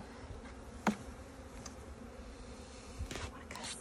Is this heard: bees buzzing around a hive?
yes